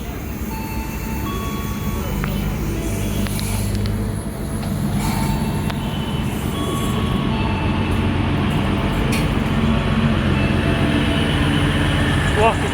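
An airport train rolls into a station in Jakarta with a steady low rumble and rattling wheels, a few faint squeals, while people talk nearby.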